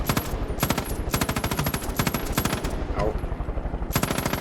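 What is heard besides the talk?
gunfire from the video game Far Cry 5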